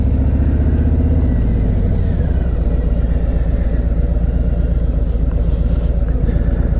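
Harley-Davidson Road King motorcycle ridden without a windshield, its engine loud and close with a steady low rumble and throbbing pulse that eases slightly partway through, continuous with no talking.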